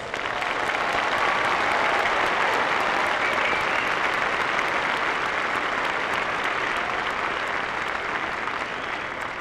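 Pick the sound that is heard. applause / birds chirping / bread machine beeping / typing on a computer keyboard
applause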